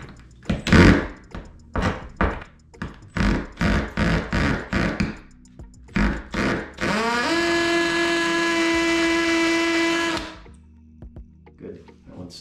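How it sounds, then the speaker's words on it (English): A hammer drill bores into ceramic bathroom tile, starting with a run of short, loud bursts as the bit bites, then settling into one steady, high-pitched whine for about three seconds before stopping, close and without talk. "just be really careful when you drill into tile"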